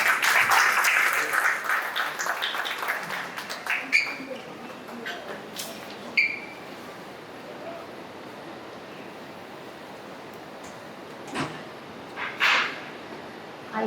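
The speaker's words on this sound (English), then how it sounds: "I think this needs a louder round of applause." Audience applause following a speech at a book launch event for a book on the Kashmir insurgency: a dense burst of clapping at the start fades over a few seconds, leaving a quiet room with scattered faint knocks.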